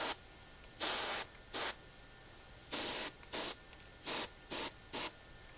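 An airbrush sprays paint onto a 3D print in short hissing bursts, about eight of them, some longer and some brief, separated by quiet pauses, close and clear.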